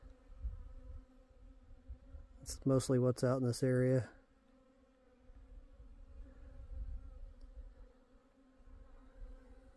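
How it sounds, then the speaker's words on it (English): Killer bees buzz near a ranch pond, one passing right by in a loud, close drone of about a second and a half, with quiet outdoor ambience and a voice around it. "More likely than not, these are killer bees."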